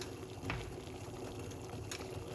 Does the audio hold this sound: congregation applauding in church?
no